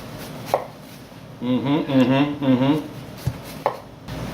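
Knife chopping an onion on a board, a few sharp single cuts spaced apart with a stretch of voice in the middle; close and crisp.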